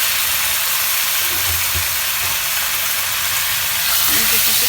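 An ail fish sizzles as it fries in hot oil for a tamarind fish curry, a loud, constant, crackling hiss close by, with a few faint background sounds underneath.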